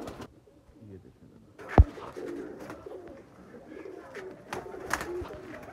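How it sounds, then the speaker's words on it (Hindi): Sialkoti and Kasoori breeder pigeons coo softly and repeatedly close by, with a brief thump and light rustling among the birds. "ये गोल्डन कबूतर है एक"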